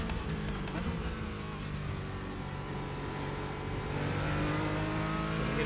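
A Porsche 718 Cayman GT4 race car engine in iRacing drones loud and steady, revving through its gears with a continuous close-up roar that builds slightly toward the end.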